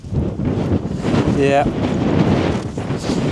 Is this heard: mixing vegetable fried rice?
no